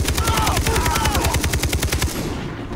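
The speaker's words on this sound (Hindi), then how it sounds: "गोली चल पड़ी है और कार की आवाज़ आ रही है" Loud, rapid automatic gunfire from the video game Far Cry 3 rattles in a continuous burst for about two and a half seconds before tapering off.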